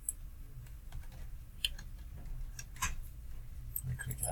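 A code is typed on a computer keyboard as scattered, quiet key clicks and taps, close but faint over a low steady hum.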